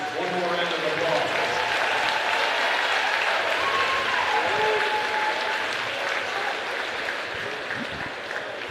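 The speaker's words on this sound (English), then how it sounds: "Let's give all these senior athletes one more round of applause." Crowd applause fills a high school basketball gym on senior night, honoring graduating athletes at a Smoky Mountain vs. Franklin game; steady, dense clapping with scattered cheers and voices continues throughout.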